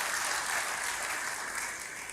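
A church congregation applauds during a sermon, with steady, dense clapping that fills the short moment on its own, with no voices over it.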